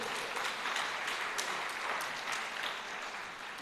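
An audience at a district award function applauds steadily, a dense wash of many hands clapping throughout at moderate distance, with a faint voice underneath.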